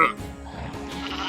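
Sheep bleat on an English coast-to-coast walking route near Patterdale and Shap, a single short bleat at the start followed by faint low rumbling, with no talk.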